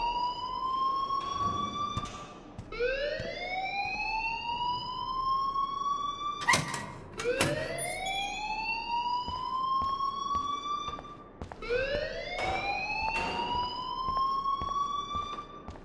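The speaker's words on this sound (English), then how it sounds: "please turn off that alarm since that's your job" Electronic fire alarm in the video game Life is Strange, a loud wailing tone that sweeps upward and holds, repeating about four times in steady cycles with brief sharp clicks between.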